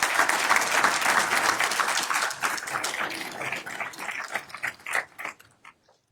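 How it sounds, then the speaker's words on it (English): Audience members at a county commissioners' reorganization meeting clap loudly together, and the applause breaks into scattered, tapering claps before fading out within about six seconds. "Why don't you all stand up and take a round of applause?"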